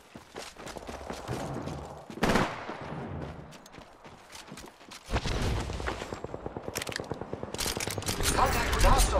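Rapid gunfire bursts in the video game Apex Legends, loud and close, with heavy sustained firing and explosive hits building toward the end amid game effects.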